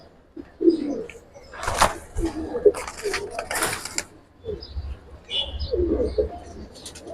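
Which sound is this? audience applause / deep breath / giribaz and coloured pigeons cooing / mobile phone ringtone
giribaz and coloured pigeons cooing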